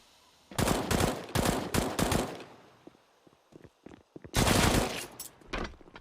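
Rapid bursts of rifle fire in a CS:GO pro match at the StarLadder CIS RMR 2021, two loud clusters of repeated shots separated by a quieter stretch of scattered clicks and small impacts.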